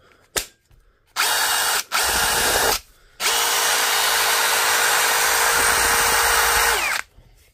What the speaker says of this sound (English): Try it on the impact driver, see how it does.